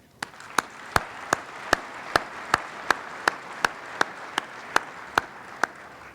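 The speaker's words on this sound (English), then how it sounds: "Your applause, please." Widely spaced, single hand claps ring out one at a time in a steady rhythm, about fifteen sharp hits over a soft room hush, as an audience applauds during a city's State of the City address.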